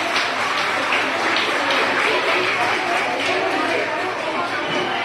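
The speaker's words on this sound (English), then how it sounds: "Give everybody a loud round of applause for everybody." Audience at a school cultural day applauding teachers and students, scattered clapping mixed with crowd chatter and voices talking over it throughout.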